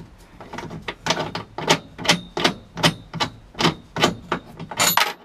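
Repeated sharp metallic impacts, about a dozen evenly spaced hand strikes at a car roll-cage bolt in a garage, close and loud with brief ringing after each hit.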